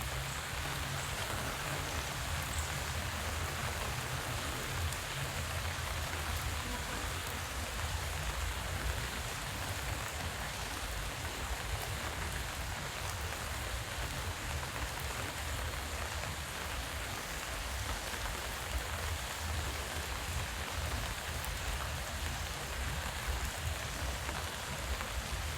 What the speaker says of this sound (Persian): واقعا صدای بارون خیلی لذت بخش